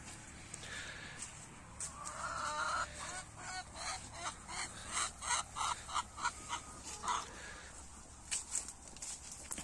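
Chickens clucking and calling in a new feeding and roaming area, a busy mix of short, repeated squawks and honk-like cries at moderate distance with no talk.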